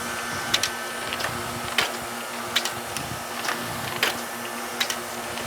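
A Mailstar 500 inserter machine runs with a steady mechanical whir, punctuated by regular sharp clicks and ticks roughly every second as mail pieces pass through.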